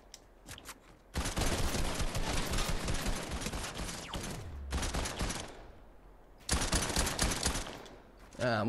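Fortnite gunfire erupts in long, loud automatic bursts, one stretching several seconds, then a pause and another extended burst, with brief quieter gaps and a few lighter taps between.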